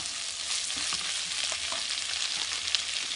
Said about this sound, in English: I'm just going to take a little tip of butter and add that in. Spread it around.